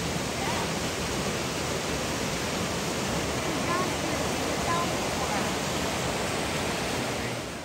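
Water flows steadily at a swimming hole on the Foothills Trail, a dense, even rushing like a small falls or stream, loud and close with no breaks.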